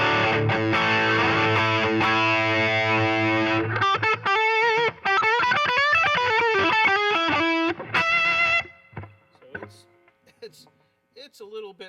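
Electric guitar played through a Boss distortion pedal with the gain turned up, sustained saturated chords and then choppy riffs at the edge of feedback, ending in quieter picked notes.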